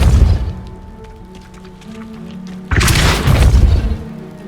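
A Depulso spell blast in Hogwarts Legacy lands as a loud, close boom with a rumbling low burst that erupts suddenly partway through, over a continuous game soundscape; no speech is heard.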